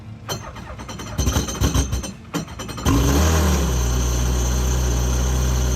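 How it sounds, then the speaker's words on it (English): A Kawasaki Ultra 300 jet ski engine, hooked to a hose for winterizing, cranks with a few uneven bursts and then catches into a loud, steady idle that holds to the end, with no talk. "So I'll go ahead and start the machine."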